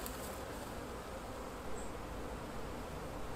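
Honey bees drone steadily and continuously around a hive frame carrying queen cells, a dense, close buzzing that holds without pause and with no voices.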